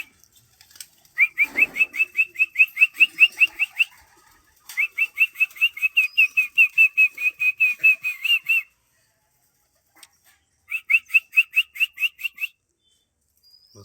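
A man whistles to call his pigeons down to land, giving three long runs of rapid, evenly pulsed high trills separated by short silences, loud and close, with a faint flutter of wings early on.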